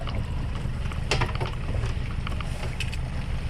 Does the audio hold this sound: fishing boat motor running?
yes